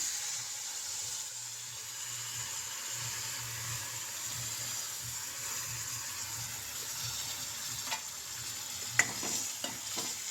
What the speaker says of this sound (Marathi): आता बेल पेपर झाला आहे, फोडणीला टाकून घेऊया